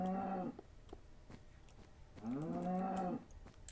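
Cows in the video game Minecraft give two long, low moos about two seconds apart, clear and close with no talking over them.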